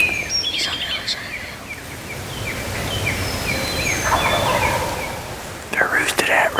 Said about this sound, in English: they started hearing toms firing off